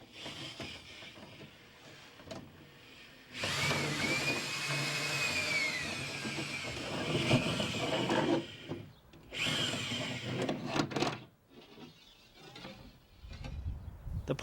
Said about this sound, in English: It's easy to get the drill out if you just give it short bursts in reverse.